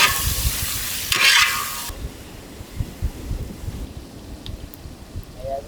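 Ripe tomatoes cooking in a pan with green chillies, a soft sizzle under scraping stirring strokes, a brief louder hiss early on, then quieter irregular spoon scrapes near and close.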